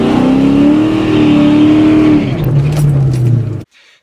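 A drag race car revs hard at close range to heat its tires before staging at the track, a loud sustained engine roar whose pitch shifts down before cutting off abruptly.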